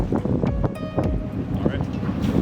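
Sailboat motoring into a creek, with heavy wind buffeting the microphone over a low engine and water rumble, loud and close throughout, with a voice speaking over it.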